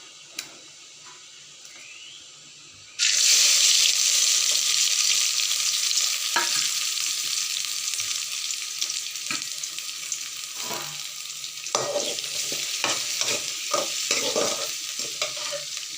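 Chopped onion and garlic hit hot oil with popped mustard seeds for a chicken gravy, bursting into a loud, steady sizzle after a quiet start, with stirring scrapes and crackles continuing throughout.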